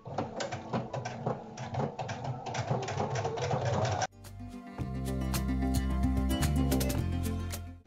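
A sewing machine fitted with a Teflon presser foot topstitches a pumpkin-shaped fabric basket, stitching in a fast, steady rhythm for about four seconds, then giving way to a louder sustained tonal passage.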